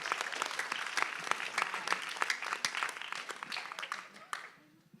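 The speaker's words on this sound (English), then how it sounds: "I think you guys ought to give yourselves a round of applause." A group of listeners gives a round of applause, scattered individual claps rising from a steady patter before thinning out and fading to quiet near the end; moderately distant and fairly soft.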